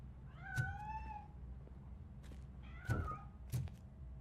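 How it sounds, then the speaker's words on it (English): A cat meows a few times in the video game RoboCop: Rogue City, short drawn-out cries over a low steady hum, fairly quiet. "That cat must be hiding inside."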